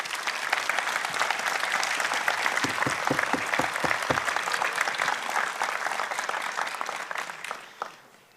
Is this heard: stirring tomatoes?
no